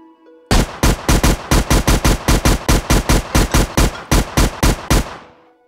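Rapid automatic gunfire from a Unity 3D video game as enemies are shot, about twenty loud evenly spaced bursts in a steady rhythm, alone with no talk and a short fading tail.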